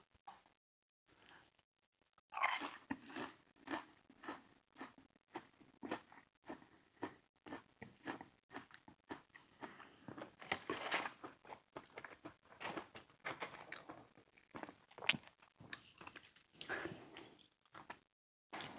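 Someone bites and chews crunchy Popeyes fried cheese bites up close, with soft crackling crunches and wet chewing in an irregular rhythm, fairly quiet and with no talking.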